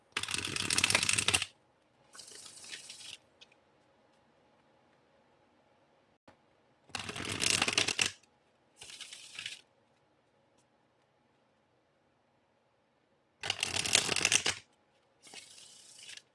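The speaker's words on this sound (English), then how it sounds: "Let me shuffle these thoroughly." Cards being shuffled in three bursts, each a loud riffle followed by a shorter softer one, separated by quiet pauses; no talking.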